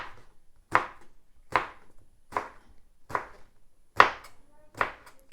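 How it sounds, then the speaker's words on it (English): A knife slices through aubergine, which some call garden egg, on a board: six crisp, evenly spaced chops about a second apart, close and fairly loud, with no talking. "so I'm just slicing up this aubergine"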